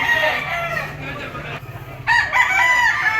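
Boston gamecock, a white-legged two-year-old rooster, crowing loudly and close in two long drawn-out calls separated by a short pause.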